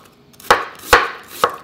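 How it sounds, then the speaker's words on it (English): A knife slices through an onion on a cutting board, three distinct crisp thuds spaced about half a second apart, close and alone. "slice this onion"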